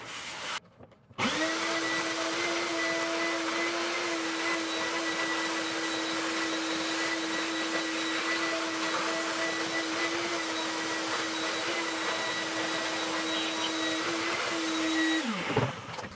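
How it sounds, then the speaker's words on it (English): A small vacuum cleaner sucks baking soda off a surface, switching on abruptly and running as a steady, close, high-pitched whine for about fifteen seconds before cutting off, with no voices. "let me go ahead and grab a little vacuum cleaner here and we'll extract that baking soda"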